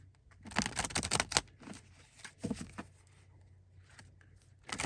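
Tarot cards riffled and shuffled in bursts of dense papery flicking, a few clusters spaced across a few seconds, close and fairly quiet over a low hum.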